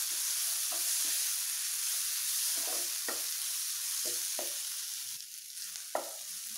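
Onion masala sizzles in a pan as garam masala powder is stirred through, a steady hiss broken by about a dozen sharp spatula scrapes and taps against the pan, close and moderately quiet.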